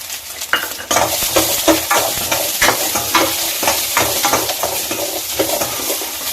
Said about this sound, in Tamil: போட்டு நல்லா வணக்கணும்.